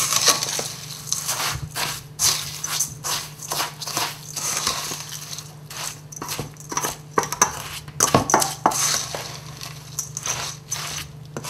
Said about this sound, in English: I'm using my hands because it's much easier to do that. So that's now mixing in nicely.